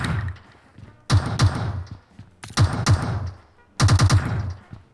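Bursts of gunfire in PUBG Mobile, three separate loud volleys of rapid punchy shots with quiet gaps between them, close by and with no talk over them.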